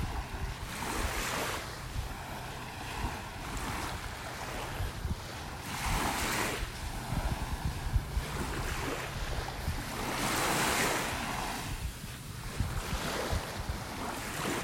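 Steady surf washing onto a beach in North Naples, Florida, with broad, continuous wave wash swelling and easing in slow cycles, plus a low rumble of wind against the microphone throughout.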